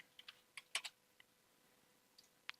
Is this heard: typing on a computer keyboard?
yes